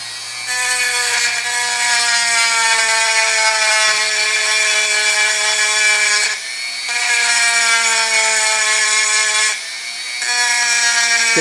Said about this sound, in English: But right here in this area, go ahead and grind that down some.